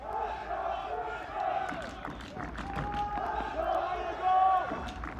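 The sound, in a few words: stadium crowd cheering at a college soccer match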